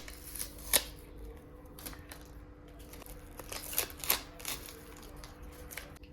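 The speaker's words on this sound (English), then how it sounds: "then it was time for me to take off the tape" Tape peeled off broken glass mended with glue in a Kintsugi-inspired repair, giving quiet, close crinkling and sharp ripping bursts in an otherwise hushed room.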